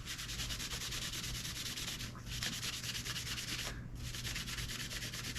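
Guitar frets are sanded with 1600 grit sandpaper, a steady, close rubbing hiss with a few brief pauses in the strokes, with no talking.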